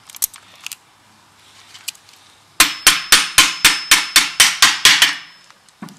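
Hammer tapping a part down during a manual transmission rebuild, a few faint taps followed by about a dozen loud, close, evenly spaced metallic strikes in a steady rhythm.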